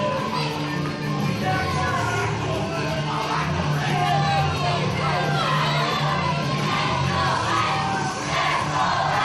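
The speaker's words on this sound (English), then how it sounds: "This crowd absolutely all over Alex Shane." Wrestling arena crowd jeering Alex Shane at an Irish Whip Wrestling show, a loud sustained roar of mixed shouts, yells and whoops filling the hall throughout.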